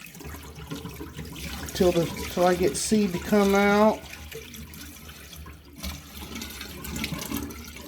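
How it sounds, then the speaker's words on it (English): Rinse water poured off soaked wheatgrass seeds in a jar, splashing and gurgling in a few short bursts and then a longer trickling pour, close by, with someone talking over parts of it. "I'm going to just go pour this water off"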